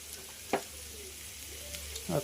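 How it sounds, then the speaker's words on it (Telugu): Ivy gourd slices fry in a pan with a steady close sizzle, broken by a couple of sharp utensil clinks as the pieces are stirred. "ఇంకొంచెం ఫ్రై అయి కావాలి ఇదిగోండి మంచిగా ఫ్రై అయినాయి చూడండి"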